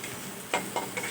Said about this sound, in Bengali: এই যে আলুটা ভেজে নিচ্ছি